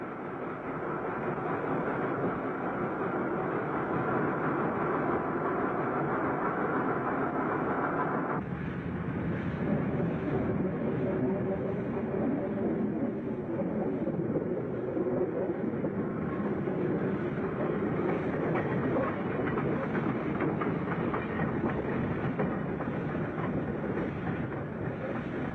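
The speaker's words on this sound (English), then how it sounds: "A vigorous start was made from Ambarawa's old station, our train consisting of the locomotive and an old inspection saloon." Steam locomotive pulling an old inspection saloon away from the old Ambarawa station, a steady, loud chuffing and rolling rumble that continues throughout.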